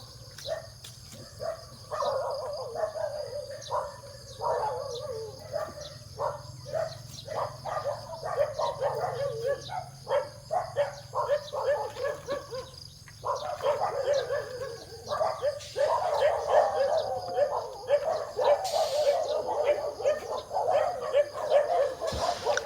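Several dogs bark and yip at a distance outdoors near a garden, in rapid overlapping bursts throughout, with birds and insects faintly audible behind them.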